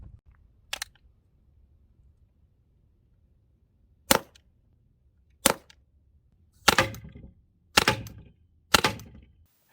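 A non-lethal pepper ball launcher fires six sharp, loud cracks outdoors, spaced irregularly with two isolated shots, then a quicker closing cluster of four, each pop decaying briefly into quiet.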